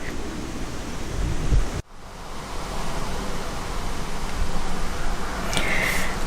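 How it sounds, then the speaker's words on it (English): Wind roars steadily across the exposed Mam Tor hilltop in the Peak District, a constant broadband rush that dips briefly near two seconds before picking up again, with a faint high whistle toward the end. "the wind has got up and the clouds are lifting"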